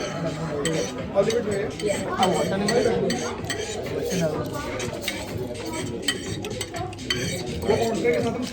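At an Indian restaurant in Sydney, Australia, a spoon stirs and clinks against dishes in rapid irregular taps and scrapes, close and fairly clear, under steady voices and restaurant chatter.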